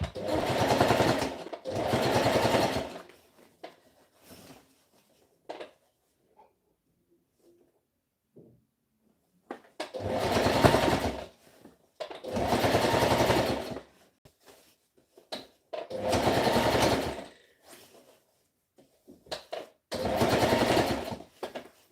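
Sewing machine stitching a half-inch seam on a V-neck shirt neckline, running in short fast bursts of loud buzzing clatter separated by quiet pauses, about six runs in all.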